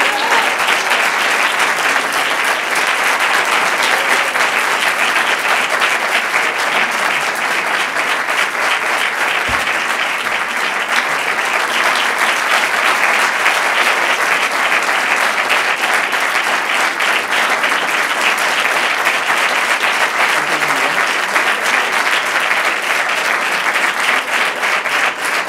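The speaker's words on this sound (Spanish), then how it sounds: "Me gustaría compartir estos aplausos y este cariño con mi amigo Eusebio Calero." Sustained, dense applause from a large audience at a Holy Week costalero proclamation event, loud and steady throughout with no talk over it.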